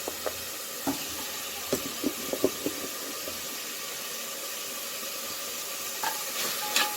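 Frozen prawns frying with ginger and garlic in a pan as a spoon stirs them, giving a steady soft sizzle broken by scattered scraping clicks of the utensil, close by, with no speech.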